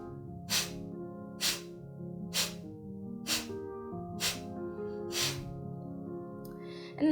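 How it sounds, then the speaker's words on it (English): Forceful, rhythmic Kapalbhati yoga exhales push air sharply through the nose about once a second, six bursts in a row during a power yoga session, with a steady background hum between them. "do Kapalbhati breathing"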